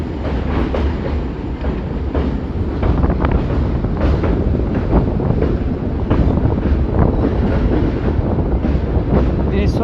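An InterCity Express passenger train rolls across a river bridge through the Dooars, a loud, continuous rumble with steady clickety-clack from the wheels and gusts of wind buffeting the microphone throughout.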